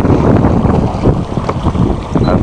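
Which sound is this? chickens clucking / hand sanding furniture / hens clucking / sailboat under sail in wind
sailboat under sail in wind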